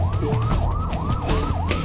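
Police siren sound effect wailing in steady repeated rising-and-falling sweeps, close and loud, about four cycles in quick succession with a low rumble underneath.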